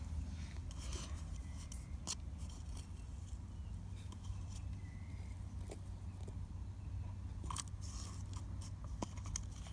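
Potting soil is scooped and pressed into a plant cup for up-potting tomatoes, quiet gritty rustling and crunching scrapes close by, irregular and soft over a low background hum.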